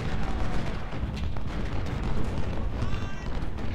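Civil War cannon and musket fire in the Ultimate General: Civil War game, a dense rumbling barrage of overlapping booms and crackles rolling continuously at a steady loud level.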